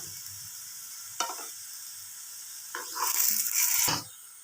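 Bread slices fry in butter in a pan, giving a steady soft sizzle with two louder bursts of hissing and scraping as the pieces are turned over, close and alone.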